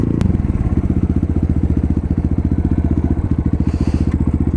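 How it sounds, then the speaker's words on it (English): A 2019 Apollo 250cc dirt bike engine runs steadily close by, its rapid, even firing pulses loud and continuous throughout, with no voices. "Put it in neutral. I don't want to cut the bike off."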